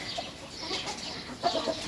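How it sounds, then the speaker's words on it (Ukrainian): A neighbour's chickens cluck faintly in the background of a garden in southern Ukraine, with a few short calls near the end, amid quiet outdoor ambience. "Сусідські кури не дають розмовляти."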